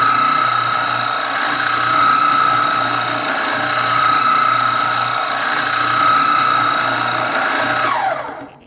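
A Harbor Freight oscillating sander runs with a steady, fairly loud high-pitched whine and buzzing vibration that holds for several seconds before abruptly spinning down at the end.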